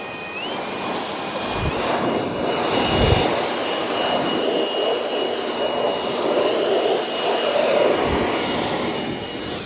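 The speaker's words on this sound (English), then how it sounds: "we'll blow the bees out of it as best we can right now" A blower runs with a steady, loud, high-pitched whine as bees are blown out of a heavy honey super during a September honey harvest, outdoors over dirt, with a few low thumps.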